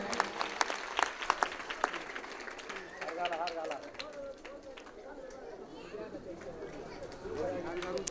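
Villagers applaud to welcome guests at a Shiv kirtan gathering in a Maharashtra village, a steady spread of crowd clapping with murmured chatter running through it and a few sharper claps early on.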